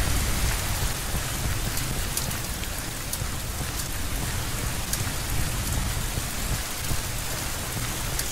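Steady, dense rain falls in the Minecraft video game, a constant even hiss with scattered brief drop ticks, heard alone with no talking.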